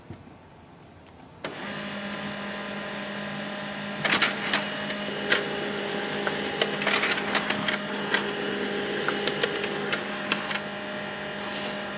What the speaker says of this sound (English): wait for the printer to print a page